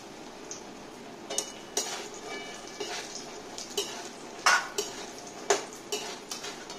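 Cashews and raisins frying in oil in a pan, a soft steady sizzle under repeated metallic scrapes and clinks of a spoon stirring against the pan, alone and close.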